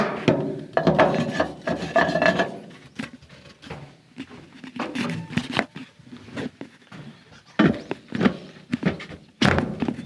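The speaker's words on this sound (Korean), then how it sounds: "테이블 상판을 테이블 상판을 고정하게 되면은" Intermittent wooden thunks, knocks and rubbing scrapes as a boat's removable tabletop is handled and fitted into place over the fish hold, with short quiet gaps between bursts.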